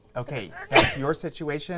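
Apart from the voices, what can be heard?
sneeze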